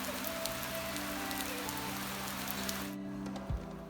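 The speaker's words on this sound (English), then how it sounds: "It's chucking it down." Heavy rain pours steadily on the Great Glen Way near Loch Ness in Scotland, a dense, even hiss of drops that cuts off sharply near the end, leaving a faint low rumble.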